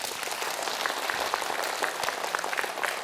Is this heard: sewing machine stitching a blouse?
no